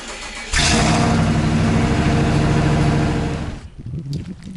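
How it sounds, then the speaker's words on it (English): A 4x4 shuttle camper truck engine, just fitted with a new pump, catches abruptly and runs loud and steady for about three seconds before cutting out, leaving faint background noise. "I'm just going to put a new pump and get this thing going."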